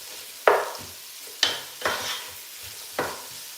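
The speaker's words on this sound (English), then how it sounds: "all you have to do is just keep on stirring. And make sure that you don't burn the onions." Onions frying in a pan are stirred in four separate scraping strokes, each a sharp attack fading into a sizzle, with steady frying noise underneath and no talking.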